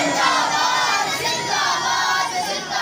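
A large crowd at a religious gathering in Gujar Khan shouts the slogan Tajdar-e-Khatm-e-Nabuwwat together in one loud, sustained chant.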